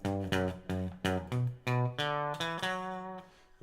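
A twangy electric guitar plays a riff of repeated plucked notes on the low strings, each struck note ringing and decaying in a steady, rhythmic pattern.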